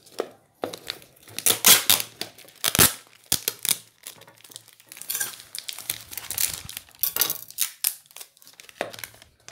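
Adhesive tape being handled while a stingless bee bait is made: close, irregular crinkling, tearing and rustling bursts with short pauses between them, and no talking.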